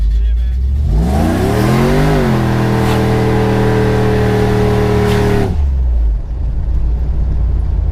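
A 660HP supercharged Chevrolet Tahoe revs hard and accelerates, its engine climbing loudly in pitch, holding a high roaring drone for a few seconds and then cutting off abruptly, with wind noise and voices around it.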